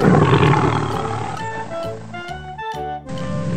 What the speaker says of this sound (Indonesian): harimau